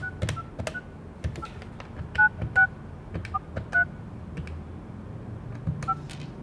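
Keypad tones from a SIM-card wireless landline phone dialing a number: a series of short, clear beeps at uneven intervals, close by against a quiet background.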